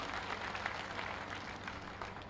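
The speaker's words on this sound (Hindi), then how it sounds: "जोरदार तालियों से अपने मुख्यमंत्री जी का हम अभिनंदन करें।" A crowd at a BJP party membership event in Madhya Pradesh applauds to welcome the Chief Minister, a brief, steady burst of clapping heard from a distance.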